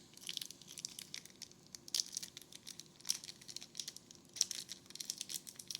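A Panini trading card pack from a Caitlin Clark NIL collection box being torn open, with close, crisp foil crinkling and tearing in irregular bursts and a few sharper rips, no talking.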